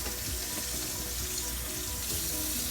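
Running water from a kitchen tap pours steadily over a red onion being rinsed, a continuous close splashing rush with no talk.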